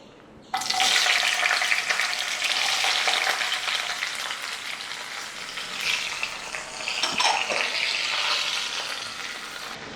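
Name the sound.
beans sautéing in oil with prawns stir fry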